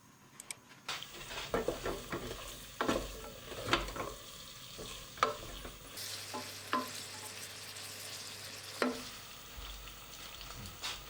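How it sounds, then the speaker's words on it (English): Onions and ginger frying in a pan over moderate heat: a steady soft sizzle broken by repeated scraping stirs and light clinks of utensil on pan, fairly close and moderately quiet. "frying the onions off. Nice moderate heat here, really."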